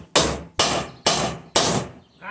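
A hammer strikes four times in an even rhythm while a wheelbarrow tire is being changed, each sharp, loud blow close by and followed by a short ringing decay, with no talking.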